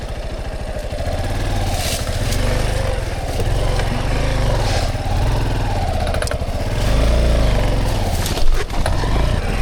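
A dirt bike engine labouring along a rough mountainside trail, a steady loud mid-pitched drone with revs rising and falling, punctuated by a clattering knock near the end, heard close up with no talking.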